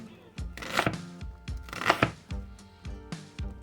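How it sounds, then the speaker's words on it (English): A knife chops raw chicken into strips on a cutting board while cooking chicken tikka masala: about eight crisp, close knocks in a steady rhythm, each with a short hollow board thump. "So I'm just going to give cut in half and then a few cuts along into strips."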